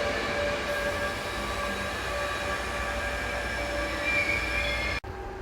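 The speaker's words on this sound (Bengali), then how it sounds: "ওই যে ট্রেনটা চলে গেল" A regional train rolls past close by on a station platform in Italy, bound for Firenze Santa Maria Novella, with a loud continuous rumble and high metallic wheel squeal, then the noise cuts off abruptly near the end.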